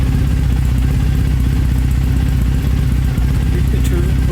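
An air-cooled motorcycle engine idles after a new engine map is loaded, giving a steady, loud, close chugging rumble with light mechanical clatter that holds throughout.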